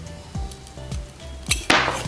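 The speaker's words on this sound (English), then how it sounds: "I've never cut a S-video cable before, but maybe scissors will do the trick" Scissors cutting through an S-video cable: a few short, crisp snips and crunchy clicks in close succession, followed by a brighter snap as the blades close through.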